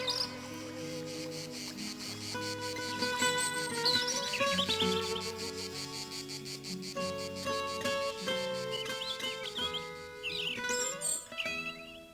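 Birds chirp and sing in a quiet valley, bright overlapping calls and trills rising over a soft steady background and continuing throughout, with music-like sustained tones layered underneath.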